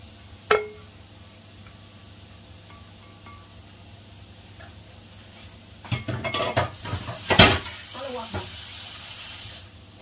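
Hot, just-boiled coconut milk is poured from a pot into a bowl in a home kitchen, making a burst of splashing and clinking midway after a single clatter and quiet room tone.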